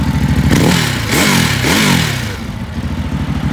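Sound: 2016 Ducati Hypermotard 939 SP engine rumbling

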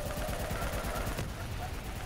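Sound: gunfire in the video game Call of Duty: Black Ops 3

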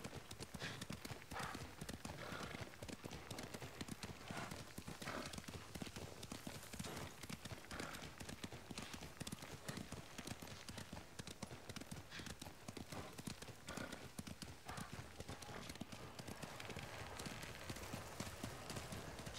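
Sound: horse hooves and neighing in the video game Ghost of Tsushima

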